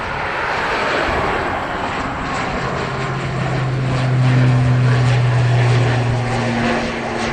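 An ATR turboprop airliner runs its engines at Dublin Airport, a steady broadband propeller drone with a low tonal hum that swells louder toward the end, heard fairly close with no talk.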